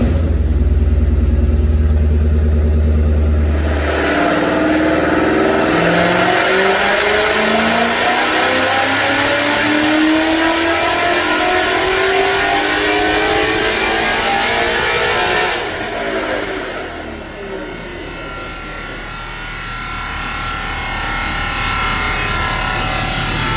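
A 2014 Mustang with an Edelbrock E-Force supercharger runs on a Dynojet dyno, the engine climbing from a low rumble into a long, loud rising rev with supercharger whine, then dropping off and settling back toward idle.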